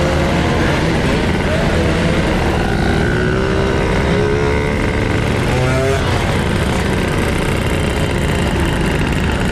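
Yamaha F1ZR 120cc two-stroke motorcycle engine running during an engine test, loud and rough with crackling pops and revving, close by throughout, with some voices over it.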